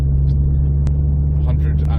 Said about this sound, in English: We've got the noise of that modified exhaust again, which is quite pleasant actually.